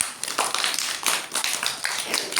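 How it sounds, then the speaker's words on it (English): Young children in a playgroup clap together for a classmate, a brief close burst of uneven, overlapping claps filling a couple of seconds. "Clap for Jaza"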